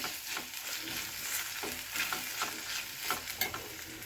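Chopped medium tomato fries with ginger paste in a pan, giving a steady close sizzle with scattered crackles and the scrape of stirring throughout, and no voices.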